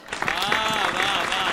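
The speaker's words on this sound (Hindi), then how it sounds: "आपकी तालियां कमजोर है" Audience applause at a Hindi poetry recital, a hasya kavi sammelan, where a brief burst of crowd clapping swells and holds while a voice talks over it.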